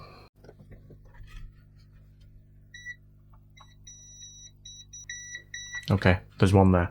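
A multimeter set to continuity beeps while probing capacitors on a circuit board, with several short, high beeps of varying length sounding over quiet hum, and someone speaking near the end.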